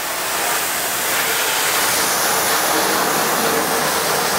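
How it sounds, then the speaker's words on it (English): Water hose spraying down a car panel while refinishing hazy, scratched clear coat, a loud, continuous broadband hiss of rushing water held steady throughout with no talk. "next we'll grab ourselves a water hose and thoroughly wash down our panel"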